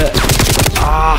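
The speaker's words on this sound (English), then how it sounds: "I'm using my bullfrog submachine gun" A bullfrog submachine gun fires in a Call of Duty Black Ops team deathmatch on the Crossroads map, a loud, close, rapid burst of shots lasting about a second.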